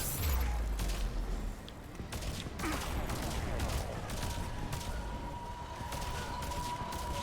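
Gunfire crackles in the game Mass Effect 3, dense bursts of rapid shots and impacts continuing throughout over a busy battle din, with a thin steady tone appearing partway through.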